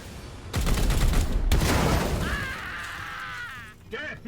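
Gunfire in the video game Warhammer 40,000: Chaos Gate, two loud heavy volleys of shots crashing in quick succession, then a ringing metallic tone that fades into a short burst near the end.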